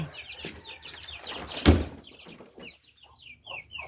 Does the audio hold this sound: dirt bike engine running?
no